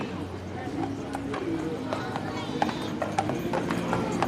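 Carriage horses clip-clop along a street in a Flag Day parade, steady hoofbeats with occasional sharper strikes under a continuous crowd murmur and distant voices.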